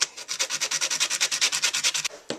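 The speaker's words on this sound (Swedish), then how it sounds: "Jag slipar också av den vita färgen som sitter på de små skallarna." Small nail heads are sanded to strip off white paint during a bedroom renovation, giving about twenty quick, even rubbing strokes close to the mic and ending in one last scrape.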